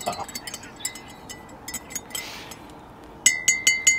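A metal spoon stirring drinks in cups at a rainy, windy car-camping cookup, giving scattered light clinks and then a quick rhythmic run of bright taps against the cup near the end.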